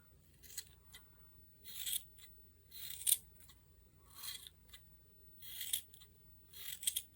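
Scissors snip through thick knitting yarn while trimming a pom-pom for a winter beanie, a series of crisp cuts in irregular bursts, close and fairly quiet.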